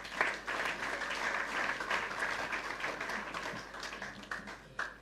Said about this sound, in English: Clap for yourself again.